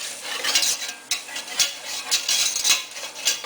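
A roux stirred firmly in a pan over lowered heat, the spoon scraping the sides and bottom in repeated rhythmic strokes with a light sizzle underneath, close up and without talk.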